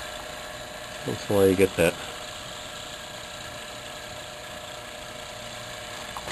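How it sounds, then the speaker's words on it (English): A circulator pump motor in a zoned heating system starts up and runs as a steady mechanical hum with a faint tonal whine, after a short burst of speech near the start. "There goes the pump. Now I have 2 pumps. A little noisy."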